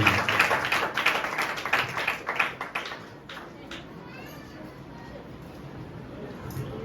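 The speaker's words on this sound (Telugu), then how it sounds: "అందరూ చప్పట్లు కొడుతూ" A church wedding congregation claps together in a steady, brisk rhythm for about three seconds, then the clapping stops and a quieter room with faint murmuring follows.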